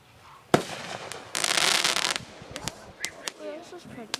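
Fourth of July fireworks go off nearby: a sharp bang, a dense crackling burst lasting under a second, then several more scattered pops and bangs, with people talking in between.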